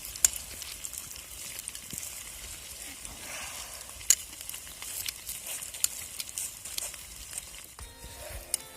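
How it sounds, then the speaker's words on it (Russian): Potatoes frying over an outdoor picnic fire, a soft continuous sizzle with scattered pops and crackles, fairly quiet and steady with no talking. "жарится уже картошка"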